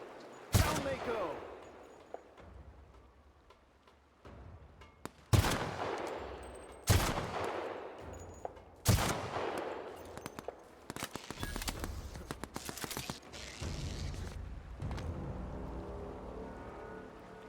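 Video game gunfire in The Outer Worlds, with several sharp, loud single shots spaced a second or two apart, followed by a rapid crackling volley, while a person talks.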